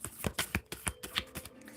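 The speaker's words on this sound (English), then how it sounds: "These cards are very hard to shuffle, guys." Tarot cards being shuffled by hand, a stiff deck giving a series of irregular, close papery riffles and slaps in quick bursts.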